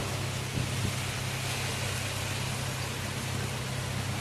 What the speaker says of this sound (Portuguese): Olha a chuva, gente.